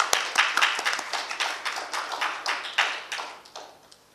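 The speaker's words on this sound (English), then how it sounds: "So let's give him a big round of applause, Mr. Rahul Dewan" A small conference keynote audience claps for an arriving speaker, a sparse run of distinct hand claps with an uneven rhythm that thins out toward the end.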